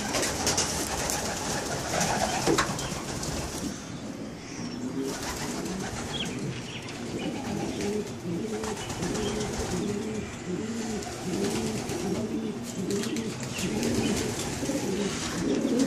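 Steady chorus of racing pigeons cooing in a loft in soft repeated rolling phrases, with a constant background hum and occasional wing flutters and chirps.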